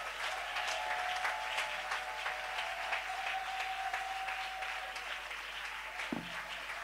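A church congregation gives sustained, steady applause for the Lord, heard at a moderate distance while a faint held tone rings beneath it.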